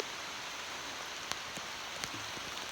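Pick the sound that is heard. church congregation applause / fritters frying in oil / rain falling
rain falling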